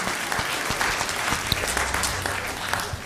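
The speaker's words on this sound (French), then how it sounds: "Nous applaudissons au plus fort" A church congregation claps loudly and steadily, a dense wash of many hands with a few louder individual claps standing out near the listener, continuing throughout.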